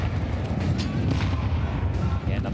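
A grenade goes off in a Counter-Strike match during a pro tournament, heard as dense, loud booming gunfire-like bursts with a crowd or caster voice faintly mixed underneath throughout.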